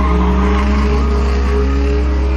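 A car engine revs loudly and steadily throughout, its pitch sweeping and holding with no voices over it.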